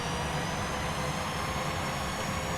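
The engines of a Boeing 737-800 run in a flight simulator game, making a continuous, even jet roar and whine with no change in pitch or level throughout.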